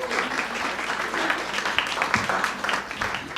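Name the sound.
applause for panel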